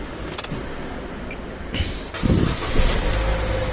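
An Opel Corsa D Essentia is started for a fog light test, and its engine catches partway through with a low, steady idle rumble that stays close. It is preceded by a few clicks and a brief whir.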